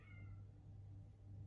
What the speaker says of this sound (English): That was a cat just aggressively meowing.